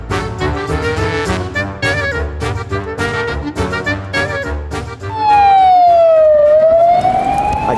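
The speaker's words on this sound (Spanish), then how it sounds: "Aquí se le da paso a las ambulancias," An ambulance and a fire engine pass a traffic light with sirens wailing loud and near over street noise, then a rising electronic siren sweep takes over at the end.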